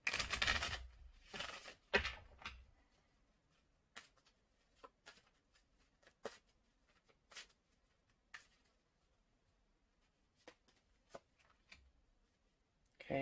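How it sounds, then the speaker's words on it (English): Tarot cards being shuffled in a quiet room: a dense burst of riffling at the start, then scattered soft, crisp card taps and slides, faint and close. "I need to shuffle again, sorry."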